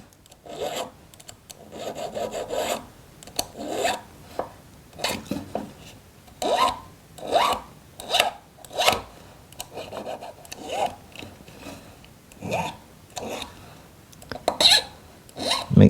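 A hand file rasps repeatedly on a metal prong claw of a ring setting, rounding it off in short rhythmic strokes, close and clear, with brief pauses between bursts.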